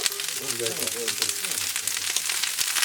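Food sizzling loudly on a very hot cooking plate as it releases its water, with a continuous crackling hiss close up under a speaking voice.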